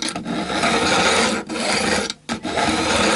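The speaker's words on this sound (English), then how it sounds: "Now time to start to cut down with the edge beveling file." An edge beveling file rasped along the fret ends of a Westone Raider guitar during a re-fret, loud close strokes of gritty scraping, broken by a few short gaps between passes.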